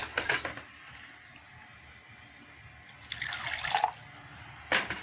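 Water is poured in short bursts into a green liquid soap solution in a cup, with splashing pours at the start, again near the middle and a brief final splash, separated by quiet.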